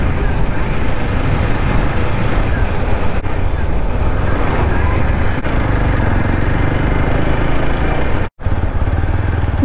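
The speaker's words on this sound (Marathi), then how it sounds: "ट्रॅफिक जाम कैसे हो गया?" Road traffic idles and creeps in a jam on a hot day, a steady, loud engine rumble with buffeting wind noise, cutting out briefly near the end.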